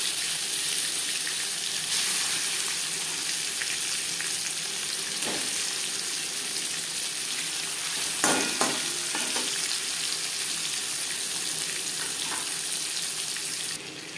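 Hilsa fish frying in hot oil in a kadai, giving a steady, close, continuous sizzle and crackle with a few brief louder pops and no voices.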